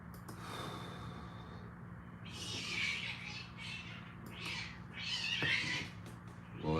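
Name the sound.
cat meowing outdoors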